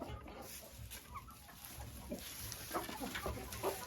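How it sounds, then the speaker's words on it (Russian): A hen clucking softly as she pushes her way toward her nest in a chicken coop, giving a series of short, low, uneven clucks against faint background noise. "Эта курочка явно хочет здесь снестись."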